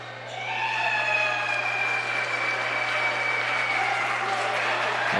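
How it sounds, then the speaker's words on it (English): Crowd clapping in a gym during a men's college basketball game: a sustained wash of applause, with a steady hum and faint tonal squeals running underneath. "A lot of clapping going on the court from the Beavers."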